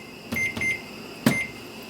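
A kitchen timer being set while cooking chicken and barley soup gives a few short, clear electronic beeps, two close together and then one more after a pause, near and fairly loud in a quiet room.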